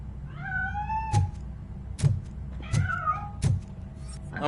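A cat meows repeatedly in the Robocop video game, with several rising and falling meows spaced about a second apart, each paired with a dull thump, close and clear over a low background hum.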